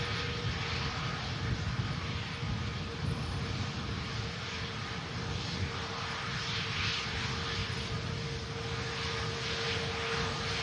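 An easyJet airliner lands at Manchester Airport, a continuous dense jet roar with a steady high engine whine, holding level and close throughout.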